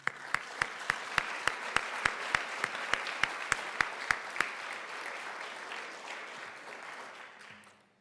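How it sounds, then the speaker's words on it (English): Audience applauding at a teacher appreciation awards ceremony, a dense steady wash of clapping with a few sharp louder claps early on, fading out toward the end. "A round of applause."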